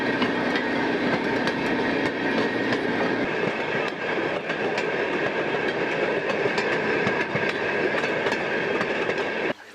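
A motor car rolls steadily along railroad tracks in Wisconsin, a continuous rumbling with rhythmic clickety-clack from the wheels, close and fairly loud throughout.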